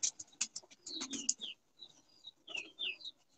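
Pigeons kept on a rooftop, giving a short run of chirps and flutters followed by soft calls, faint and close, with no speech.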